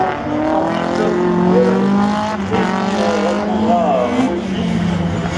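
Slalom race car at the Lessay finals roaring past, loud engine with rising and falling harmonic pitch as it revs through gears, under continuous French commentary.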